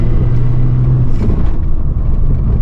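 A Citroën AX GTI engine pulls hard in second gear under steady loud rumble, its tone rising through the gear with no talking.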